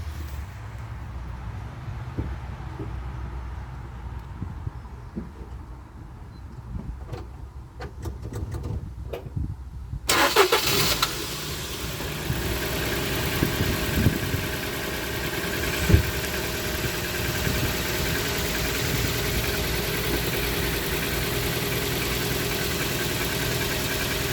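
A car engine fires up partway through and settles into a steady, fairly loud idle hum with a slight rattle, after some quiet clicks and handling noises beforehand.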